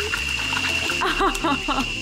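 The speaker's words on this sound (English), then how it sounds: "we just filled up his little bathtub with some cool water and he's sitting in it and loving life" A small child sits splashing in a little bathtub of cool water, giving light, irregular sloshing close by under a constant hum, with a high voice chirping over the splashes.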